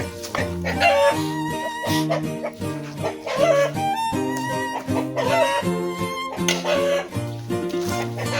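Chickens and chicks on a farm, with steady overlapping clucking and peeping calls, fairly close and loud throughout, with no talk over them.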